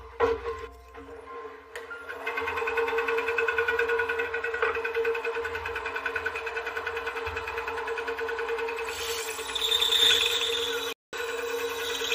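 A bandsaw cuts through wood with a steady, close mechanical hum and whine that runs for several seconds, then stops abruptly.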